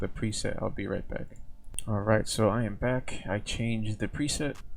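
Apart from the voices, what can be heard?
No distinct noise like a dog, phone or traffic.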